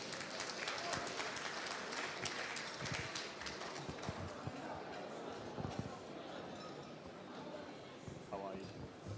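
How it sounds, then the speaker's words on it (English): Applause from a gala dinner audience greeting honorees called to the stage: a dense, continuous patter of clapping with voices mixed in and talk rising near the end. "Give them a round of applause."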